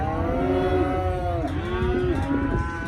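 Charolais cross Black Angus cattle being gathered for shipping give loud, close, drawn-out moos, one long call dipping and rising in pitch, with no talking over it.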